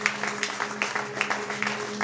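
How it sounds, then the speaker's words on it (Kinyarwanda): Church congregation clapping together in rhythm during a service, a steady run of claps at a moderate level over a constant low hum. "Itorero reka dukomere Imana amashyi"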